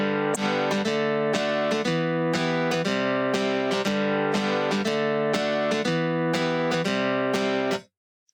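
A modeling acoustic guitar plugin played completely dry with equalizer, compressor and reverb switched off: a steady run of plucked, ringing notes repeating for about eight seconds, close and even, then stopping abruptly into silence.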